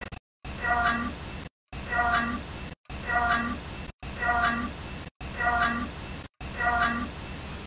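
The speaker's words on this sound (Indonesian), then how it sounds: "Kalau di video kedua, aku akan bilang itu kucing cuy." A cat meows six times in a steady, evenly spaced series, each call a clear, fairly loud mew separated by brief silences.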